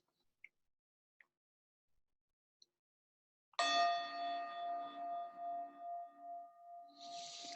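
A meditation bell is struck once after a few faint ticks and taps, then rings with a clear, sustained tone that pulses and wavers as it slowly fades in near silence.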